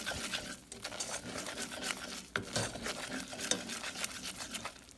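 Flour and butter cooking in a pan for mac and cheese roux, stirred with soft scraping and sizzling patter, close and quiet, with irregular crackles and no talking.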